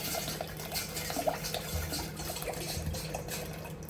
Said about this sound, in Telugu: వాటర్ బాగా మసిలినాయి.